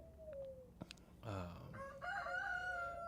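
A rooster crows once at fairly close range, a rising, stretched call following a few soft clucks and chirps from other birds in a quiet farm-sanctuary setting.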